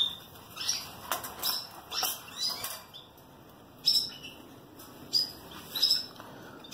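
Newly hatched canary chicks in a cage give thin, high chirps in short bursts, fairly faint and spaced irregularly against a quiet background.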